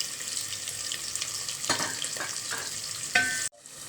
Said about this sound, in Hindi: अब इसके अंदर जाएगी ये 4 अदद हमने प्याज ली थी, मीडियम साइज़। इसको हम करेंगे फ्राई।